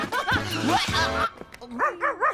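A dog gives a few short, yipping barks and whimpering whines close by, broken by a brief pause, with a bit of background noise.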